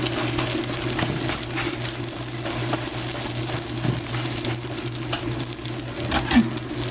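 A dhalpuri roti sizzles in oil on a hot pan with a steady, dense frying hiss that continues without a break. A low hum runs underneath, and a faint clink sounds near the end.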